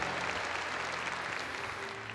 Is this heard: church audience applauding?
yes